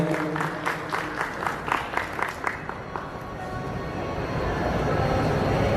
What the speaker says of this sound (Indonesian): Beri tepuk tangan yang meriah buat beliau